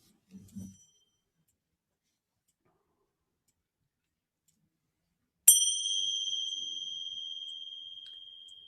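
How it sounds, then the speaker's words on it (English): After a soft sound and a long silence, a single bell is struck at the end of a yoga practice and rings out clearly, its tone slowly fading over several seconds. "With the sound of the bell"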